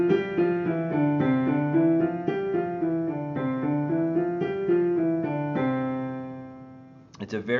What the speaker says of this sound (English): The first warm-up pattern is called scale up, scale down, which sounds like this.